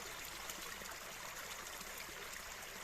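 A natural spring runs in freezing weather outdoors, its faint, steady trickle and gurgle of flowing water holding even and quiet from start to end.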